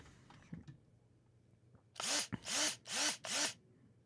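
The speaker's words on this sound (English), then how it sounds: "you can see all the holes I've been drilling" Four short bursts of a power drill whine out in quick succession, each spinning up and stopping as holes are drilled, after a few faint knocks and rustles.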